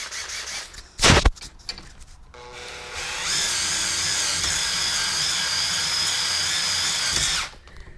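Power drill boring a hole through the top of a metal coolant swirl pot fabricated for a Mazda RX7 K20 engine swap; a sharp knock, then a steady loud whine for about four seconds that stops abruptly.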